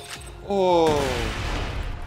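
A sudden in-game explosion in Borderlands 2 bursts out loud at mid-clip and rumbles down, with ringing tonal sweeps, while someone speaks over it.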